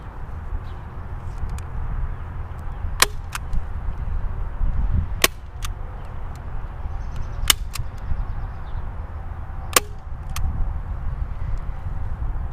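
Staple gun fastening garden bed fabric on a raised vegetable bed outdoors, with five sharp snapping shots at irregular intervals over a steady low outdoor background and no talk.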